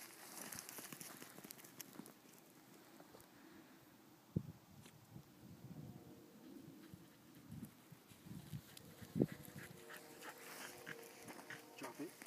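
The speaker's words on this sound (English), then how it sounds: "this is my 6-year-old Pembroke Welsh Corgi, Raz" A six-year-old Pembroke Welsh Corgi pants and whimpers outdoors while playing with a ball toy, soft breathy sounds running through the whole stretch with a couple of sharper bursts, under a person talking.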